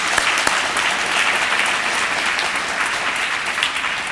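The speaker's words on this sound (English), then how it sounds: "let's give it just a round of applause" A conference audience claps in sustained, dense applause, loud and steady throughout with no voices standing out.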